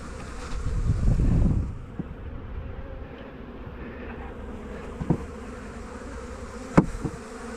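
Honey bees buzz around an open hive while the floor is changed and a honey super added, a dense steady drone with a louder swell early on and a few faint knocks and clicks.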